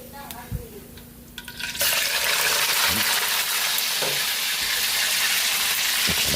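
A second batch of chicken hits a hot pan and erupts into a loud, steady frying sizzle that fills the rest of the clip, with a few soft clatters over it.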